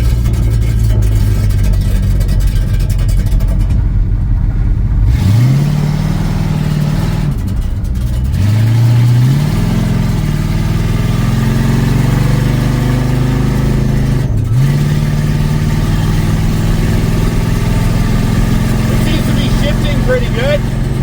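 A loud, rough 1966 Lincoln engine with no muffler idles and revs several times, raw and unmuffled, rising and falling in pitch over a constant low rumble.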